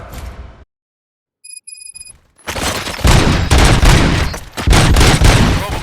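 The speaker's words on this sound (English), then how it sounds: "Gunshots? What's going on?" Loud bursts of rapid gunfire erupt in the RoboCop Rogue City video game after a short quiet gap with a few electronic beeps, the shooting continuing in dense, sustained volleys.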